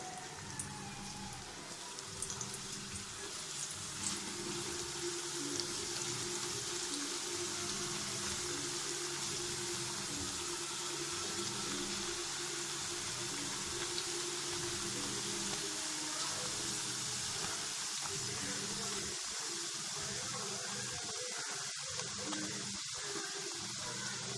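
Potato slices for homemade chips fry in hot oil, making a loud, continuous dense sizzle and crackle that holds steady throughout, with no talking.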